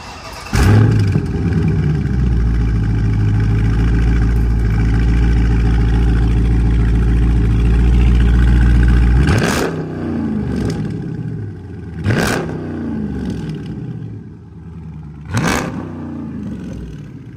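A Dodge Charger 392 Scat Pack exhaust rumbles loud and deep at idle for several seconds, then fires three sharp revs that rise and fall back, close up and without talk.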